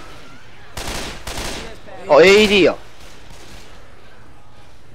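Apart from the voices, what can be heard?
gunfire with explosive rounds in a zombie shooter video game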